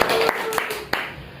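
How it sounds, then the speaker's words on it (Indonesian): A few sharp, separate hand claps ring out during an Indonesian university club podcast, spaced unevenly over a second and a half with talking around them. "Ada tepuk tangan juga."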